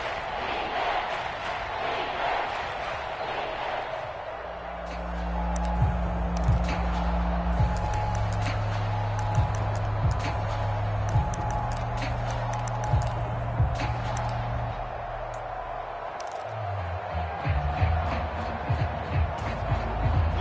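A stadium crowd in an American football video game, Seahawks home field in the red zone, gives a steady loud roar that swells and rumbles throughout, with occasional sharp accents on top.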